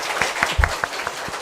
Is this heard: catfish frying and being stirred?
no